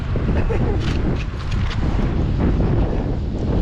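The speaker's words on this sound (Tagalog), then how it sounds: "malakas ang hangin at saka malamig" Strong, cold wind buffets the microphone out at sea on a fishing trip, a constant loud rumbling roar that never lets up, with faint water and boat noise underneath.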